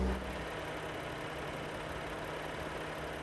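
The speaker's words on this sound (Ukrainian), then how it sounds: "зараз будемо робити перший запуск автівки. Вона заводиться" A BMW X5 F15 engine idles steadily just after its first start, a continuous low hum with an even tone throughout and no talking.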